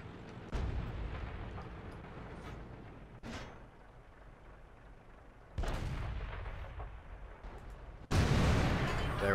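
Tank cannon shots in World of Tanks, several heavy booming blasts spaced a few seconds apart, each followed by a rumbling decay, loud and close.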